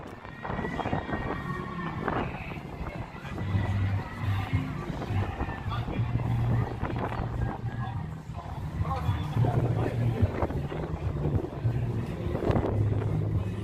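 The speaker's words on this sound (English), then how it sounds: "Right here is going to be extra windy." Heavy wind buffeting a microphone outdoors in Las Vegas at night, a constant low rumble and roar that runs throughout without letting up.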